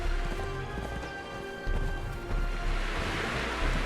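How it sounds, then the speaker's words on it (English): Horse hooves clop in a quick galloping rhythm as a rider travels on horseback in the video game Conan Exiles, with a steady ambient wash behind the close, repeated hoofbeats. "So now we can actually ride a horse."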